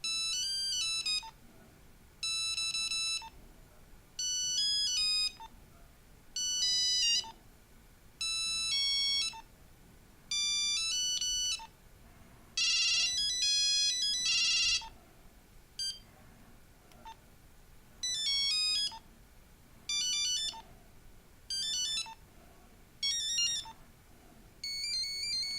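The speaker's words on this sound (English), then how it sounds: "We only have, let's see, 16 ringtones in here." Ringtones from a Nokia 8110 mobile phone play one after another as short bright electronic melodies separated by brief pauses, loud and close, with no talking.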